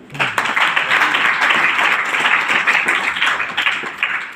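An audience claps together at a church sermon gathering, a dense, steady wash of many hands held at even loudness for several seconds without a break.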